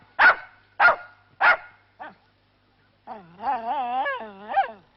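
A mixed-breed dog gives three sharp, close barks and a softer yip, then after a pause lets out a long, wavering whine and whimper, loud and alone in a quiet garden.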